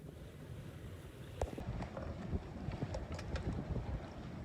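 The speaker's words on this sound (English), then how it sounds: "the wind just started picking up, so we're gonna stay out" Wind gusting steadily around a Westsail sailboat near shore at a port entrance, a constant rushing noise with microphone buffeting and small knocks and splashes throughout, no talking.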